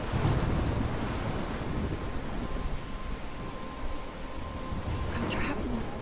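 Thunderstorm in the video game Life is Strange: steady loud rain and wind hiss with low rumbling thunder, a continuous stormy wash throughout without clear speech.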